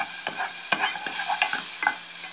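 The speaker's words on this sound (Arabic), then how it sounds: "حطيت معلقه الزبده او السمنه على النار زي ما احنا شايفين، هنزل عليها بالبصل وورق اللوز" Onions and almond slivers fry in melted butter or ghee while a spoon stirs them in quick, close scraping strokes over a light, crackling sizzle.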